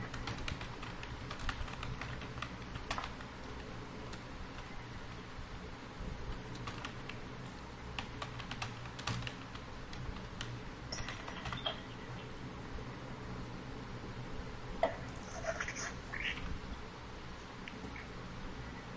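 Someone types a name on a computer keyboard during a word-processing lesson, with scattered light key clicks at a steady, unhurried pace over a quiet room hum.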